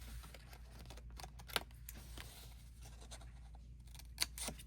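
Scissors snip little corners off paper for a Lifesavers candy favor craft. Two faint, brief crisp cuts stand out against a quiet, low room hum.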